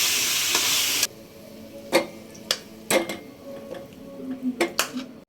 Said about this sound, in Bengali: এখন আমি আচারটা বাটিতে ঢেলে নেব